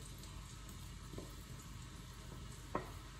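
Leeks and red onions frying in oil and butter for a risotto, a steady low sizzle with occasional soft stirring scrapes and one brief clack near the end.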